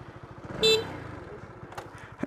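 Honda CB150R SE motorcycle idling on a road, its engine and exhaust giving a steady low pulsing throb throughout, with a brief high horn-like toot near the start and a sharp burst near the end.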